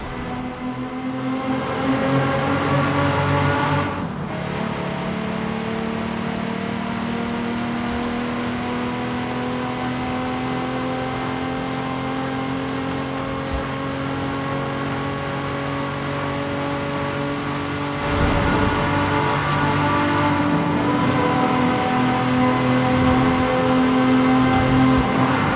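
A Ferrari engine roars steadily through a race in the Forza Horizon video game, its loud sustained drone climbing and dropping with gear changes, with a sharp shift near the start and another surge late in the run.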